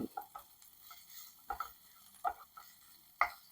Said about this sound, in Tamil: பெப்பர் ஃப்ரை பண்ணிக்கலாம். PRAN pepper fry.